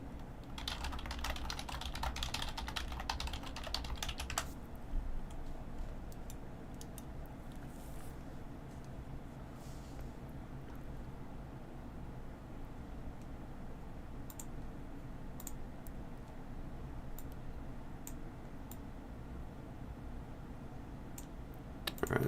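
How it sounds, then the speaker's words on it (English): Quiet computer keyboard and mouse clicking: a burst of fast typing at first, then sparse scattered clicks and taps over a low steady background, close and faint, no voices. "You guys probably hear some mouse keyboard clicking though."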